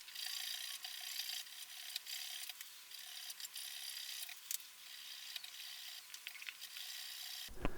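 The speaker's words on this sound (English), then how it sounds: "after what feels like an absolute age of rubbing these with the fret erasers" Fret erasers rubbing and polishing the frets of a Telecaster-style guitar, a fine continuous scratchy hiss in short repeated strokes, faint and close, with a brief louder knock at the very end.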